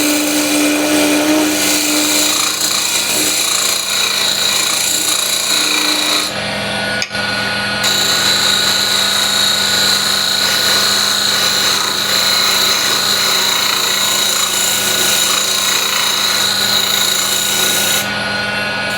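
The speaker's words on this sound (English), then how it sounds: "small skew, low peel cut" A small skew chisel takes a low peel cut on walnut burl spinning on a wood lathe, giving a steady, close rasping hiss that runs almost unbroken for the whole stretch, with one brief break partway through.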